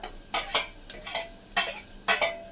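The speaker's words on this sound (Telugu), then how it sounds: "అది కానీ ఇట్లా ఆయిల్లోనే ఫ్రై చేయాలన్నమాట" Ground ginger, garlic, coriander, cumin and chilli frying in oil for tomato rasam, with repeated bursts of sizzling as the spices are stirred, close and fairly loud with short pauses between.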